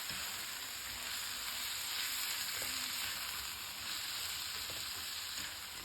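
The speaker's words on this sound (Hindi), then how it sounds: "और अब मैं दरमियानी से तेज़ आंच पे इसको अच्छे से फ्राई कर लूँगी।" Keema with ginger garlic paste fries over medium-high heat for karahai, a steady broadband sizzle with occasional faint spoon scrapes, moderately loud and continuous with no talking.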